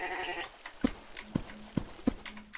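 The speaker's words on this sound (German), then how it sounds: "Diese Schafe, die mir so direkt ins Ohr bleiben." Sheep in the blocky sandbox game MineClone5 on Minetest bleat in several short, close cries spaced about half a second apart, clear against quiet background game sound.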